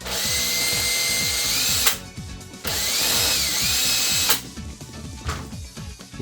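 A power drill runs in two long, steady bursts driving bolts into the casing of a Triton AS2000XT thermostatic power shower, with a short pause between and rattling knocks at the end; close and loud, no talking.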